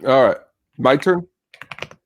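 Computer keyboard typing during a video call: a short burst of several light, quick key clicks comes right after people talk.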